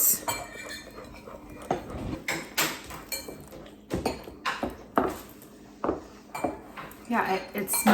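Water and flour being stirred for a sourdough starter in a bowl, heard as irregular scraping and clinking of a utensil against the container in uneven bursts, fairly close, with no talk.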